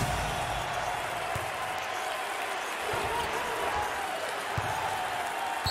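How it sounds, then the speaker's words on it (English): A basketball crowd at the NCAA Mountain West Conference championship game between Boise State and Colorado State gives a standing ovation, with dense, continuous applause and cheering filling the whole stretch. "Standing ovation."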